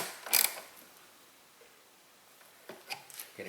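Brief metallic ratcheting and creaking as a wrench tightens the battery terminal on a Volvo S80 3.2L, one sharp burst at the start, then quiet, then a few faint clicks near the end.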